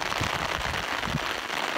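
Rain falling during a walk on flowering heathland near Gortel, a dense, steady patter of drops close to the listener, with faint irregular ticks in the wash and no voices.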